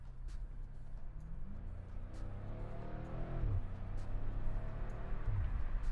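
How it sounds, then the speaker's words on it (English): BMW M5 F90 sedan running through its gears, a steady engine drone with pitch sweeping up and dropping at a shift, then settling into a lower hum, heard from inside the car with no talking. "it has a really weird sound when I'm changing gears."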